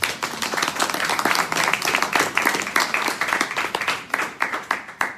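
Audience applause with loud, dense clapping close by, sustained and rhythmically uneven for about five seconds, no talking over it.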